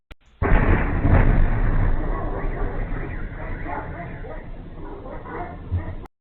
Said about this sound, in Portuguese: Aqui um outro impacto de drone no Oblast de Ryazan.